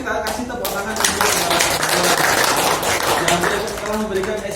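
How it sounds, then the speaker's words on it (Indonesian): Group clapping in a classroom during a teacher-training practicum, with dense, steady applause mixed with voices for the whole stretch. "kita kasih tepuk tangan"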